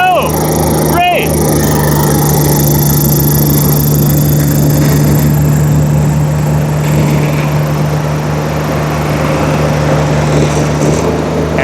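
Rippa RS06 and RS04 mini skid steers run in high gear, a steady loud engine drone with a constant low hum that holds throughout, close by, with no talk over it.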